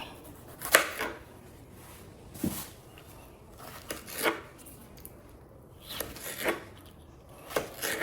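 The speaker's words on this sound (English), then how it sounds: "first we're gonna start off cutting up the tomatoes" A knife cuts through ripe and firmer tomatoes on a board, about eight to ten separate soft chops spaced irregularly, close and fairly quiet, with no talking.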